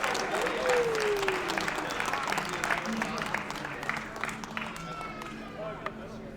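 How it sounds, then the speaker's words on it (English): A crowd applauds and cheers continuously for the winner at a live Tetris championship final, the CTWC Southern Qualifier, with clapping and scattered whistles filling the room and some voices in the mix. "Give him another round of applause"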